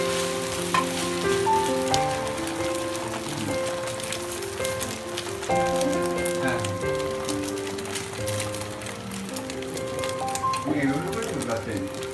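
An egg fries on a hot pan for a Kolkata street-food egg roll, giving a continuous close sizzle under steady tonal background sound and voices for the whole stretch.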